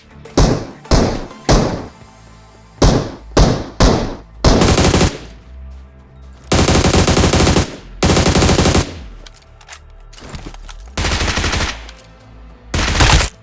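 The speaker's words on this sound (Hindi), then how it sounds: "अब यहाँ पे एक बॉट गोली चला रहा होता है" A bot fires bursts of gunfire in PUBG Mobile: several short, loud rapid bursts in quick succession, then longer sustained automatic volleys with brief gaps, close and dominant with no talk.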